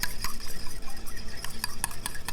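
Tomato and egg being stirred on an oiled Blackstone griddle, with steady scraping of a metal spatula and several sharp clinks against the hot steel surface, loud and close with no talk.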